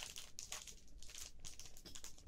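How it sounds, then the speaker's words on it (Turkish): A plastic pasta package is opened close by in a kitchen, giving a few quick crinkling and rustling bursts, quiet and without talking. "Şimdi makarnamızı açalım."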